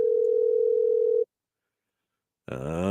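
A telephone line tone sounds as a steady, near, loud pulse while calling someone, then a short silence, then a burst of a different phone signal.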